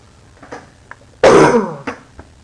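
A single loud, harsh cough or throat clear bursts out near the middle, preceded and followed by a few faint, small throat sounds in a quiet room.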